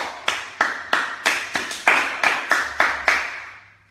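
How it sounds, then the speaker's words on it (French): Eleven sharp claps in an even, steady rhythm, close and fairly loud, each ringing briefly before the next. "Applaudissez pour ça."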